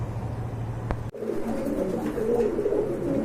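Pigeons coo steadily at close range, a low rolling murmur that continues after a brief click near the start, with no voices.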